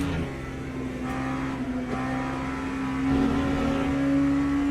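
A steady, droning LMP2 prototype race car engine in the Le Mans Ultimate sim, holding a fairly constant pitch that rises slightly near the end, heard alone at moderate loudness.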